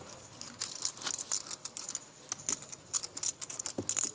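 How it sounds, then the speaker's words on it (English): A deck of playing cards shuffled at a poker tournament table in Prague, rapid crisp riffling and snapping bursts in quick irregular clusters, close and fairly clear with no talk over it. "I hear a deck being shuffled"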